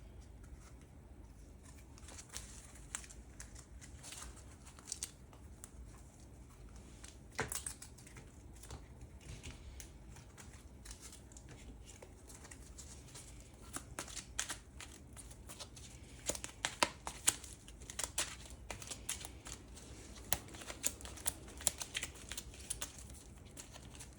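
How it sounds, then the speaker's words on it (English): Dune Imperium board game cards are shuffled on a table, a long run of soft quick riffling clicks and taps, quiet and close with sharper flurries toward the end. "So let's do a proper shuffle here."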